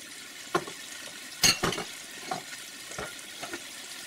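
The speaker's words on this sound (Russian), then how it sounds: "Кладу помидоры" Tomatoes tip into a hot pan of frying garlic and oregano while making shakshuka with bulgur, giving a sudden burst of sizzling and clattering, then softer stirring scrapes and light pan knocks, close and without talk.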